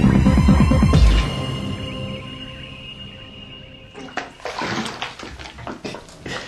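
Water draining from a bath: a strong, steady rushing flow at first drops to a lower gurgling trickle, then breaks into irregular glugs and splashy bubbling as the last of it empties, heard close with no voices.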